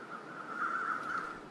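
Crows caw faintly in the snowy wilderness of the survival game The Long Dark, a brief, distant harsh call in a quiet scene.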